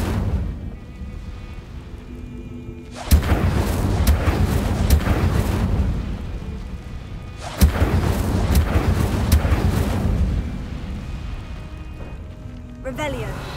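In Hogwarts Legacy, an Incendio fire spell bursts out twice with a sharp onset, once at about three seconds and again near eight. Each burst roars loudly and sustains for several seconds, close up, before fading.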